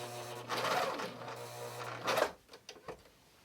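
A sewing machine stitching fabric for a small zippered tote runs in a brief, quiet hum, then stops and gives a few faint clicks.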